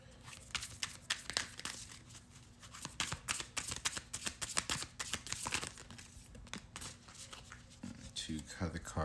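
Tarot cards shuffled by hand during a reading, a close run of rapid papery riffles and flutters in uneven bursts, with a voice talking softly near the end.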